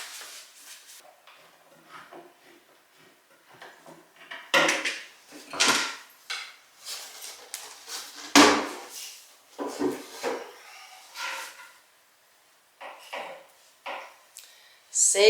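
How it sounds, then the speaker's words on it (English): Cabinet doors being taken off, heard as repeated wooden knocks, clunks and rattles of hardware. The bursts are fairly close and irregular, with short quiet gaps between them and no talking. "So first thing I got to do is take my doors off."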